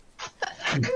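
A single sneeze from a woman, a quick intake of breath building into a short, breathy burst, heard close and indoors.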